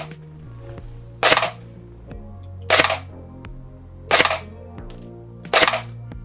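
Four sharp, loud shots from an ARES SL10 electric blowback airsoft gun, evenly spaced about a second and a half apart, each a quick snapping crack with a mechanical clack, over a low steady hum.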